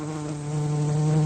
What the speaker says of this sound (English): shit, fucking bees!